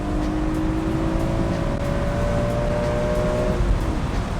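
A BMW E46 M3 Convertible engine pulls hard through an overtake on a single-track A road, a steady loud drone with a rising tone under heavy road and wind roar.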